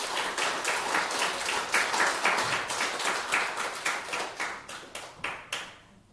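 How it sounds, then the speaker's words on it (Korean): A church congregation at a Sunday service claps together in a steady run of hand claps lasting several seconds, fading out at the end; the sound is moderately distant and fills the room. "우리 하나님께 감사와 영광의 박수 올려드리겠습니다."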